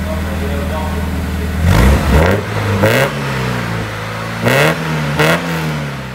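A Porsche 944 2.5 four-cylinder engine runs in a workshop after a timing belt job, idling steadily close by with several short, sharp revs that rise and fall back to idle.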